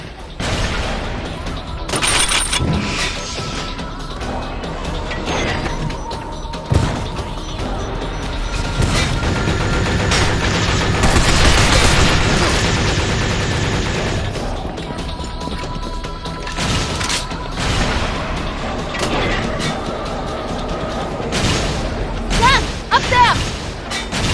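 Sustained gunfire and heavy crashing impacts fill a firefight against an armored robot in Binary Domain, with rapid bursts, thuds and booms under shouted commands from squad voices.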